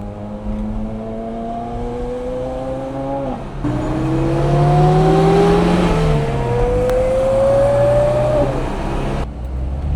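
Porsche Carrera GT and a Lada racing on the Nürburgring, engines revving hard and climbing through gears, loud and close with a steady roar from an onboard car as the other pulls away.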